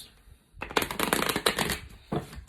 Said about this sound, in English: this thing shuffles like a dream